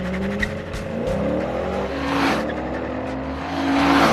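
A Ford Falcon 240SS-style drag car launches at a drag strip, engine revving hard and accelerating away, its pitch climbing through gear changes, loud and close with a steady roar.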